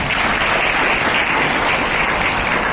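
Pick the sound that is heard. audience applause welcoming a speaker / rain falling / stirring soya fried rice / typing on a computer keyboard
audience applause welcoming a speaker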